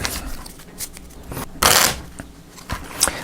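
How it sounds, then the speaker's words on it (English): A deck of board-game cards is shuffled close by in a few short bursts of riffling and sliding, with one louder flurry in the middle. "We shuffle everything back up."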